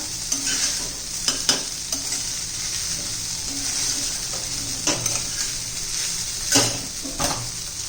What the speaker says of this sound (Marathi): आपली खिचडी गरम होत आलेली आहे